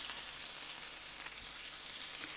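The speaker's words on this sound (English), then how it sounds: "the sizzle" Burgers frying in a pan, a faint, steady crackling sizzle running evenly through the clip with no voices.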